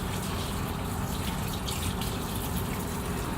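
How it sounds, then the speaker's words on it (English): Tap water runs steadily over fresh fruits and vegetables in a continuous close, even gush with no pauses and no voices. "we'll start off by rinsing them"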